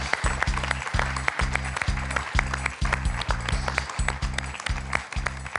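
Studio audience applause on the French quiz show Questions pour un champion, steady rhythmic clapping throughout, with repeated low thumping pulses underneath and no talk over it.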